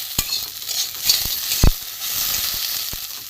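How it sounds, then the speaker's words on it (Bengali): Potatoes fry in a little oil in a pan, a soft sizzling hiss broken by a few sharp scraping taps of stirring, close by and fairly quiet. "ঢাকাটা খুলে দেখব আলুটা কেমন ভাজা হয়েছে।"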